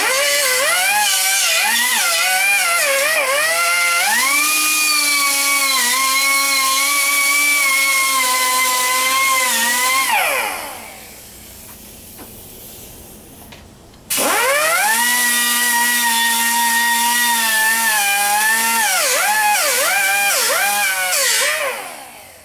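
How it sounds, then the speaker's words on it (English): A bench grinder's wire wheel cleans up metal with a loud, harsh whine that spins up, runs steadily, drops away to a quiet lull with faint scraping, then surges back to full speed before winding down. "now we're going to hit the wire wheel."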